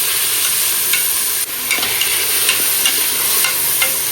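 Steady sizzling and frying of tomatoes being sautéed in a pan, with occasional stirring scrapes, continuous and fairly loud throughout.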